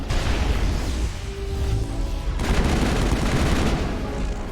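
Gunfire in the Mass Effect video game, a rapid, sustained barrage of shots and bursts, loud and continuous with a brief lull before the firing intensifies.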